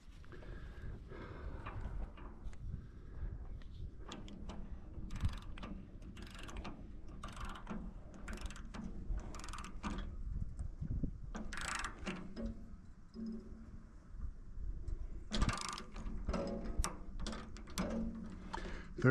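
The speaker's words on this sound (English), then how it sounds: "I'll torque that thing up and check her out" A torque wrench tightens the blade clamps on a MechMaxx SM32 sawmill. Quiet metallic ratcheting clicks come in irregular bursts over a low background rumble.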